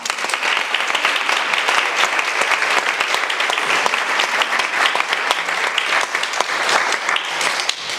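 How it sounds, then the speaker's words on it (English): A room full of people at a neuroinclusive code of practice launch event applaud Eva and Mandy from the Combined Authority, with loud, dense, continuous clapping and no talking. "if we can all please give a round of applause to Eva and Mandy here from the Combined Authority for all of their support"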